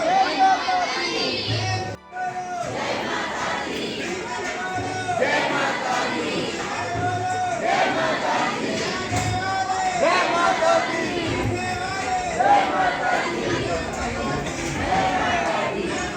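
A dense crowd of pilgrims at Chandi Devi temple chatters and chants nonstop, with children's voices and shouts in the mix. The loud, close hubbub fills the whole stretch.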